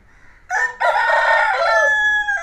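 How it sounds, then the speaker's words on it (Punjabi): An Aseel rooster on a farm in Hoshiarpur lets out a single loud, close crow lasting about two seconds, with no talk over it. "ਆਹ ਦੇਖੋ ਅਸੀਲ ਕੁੱਕੜ ਦੇਖੋ ਕਿੱਡਾ ਮੋਟਾ ਹੈਗਾ"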